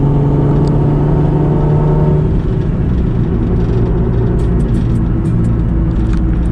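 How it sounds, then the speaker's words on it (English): A turbocharged car engine revs loudly and close, a deep rumbling drone that rises then settles into a rough, steady growl, with faint high whistles and chirps near the end. "I miss hearing those turbo sounds"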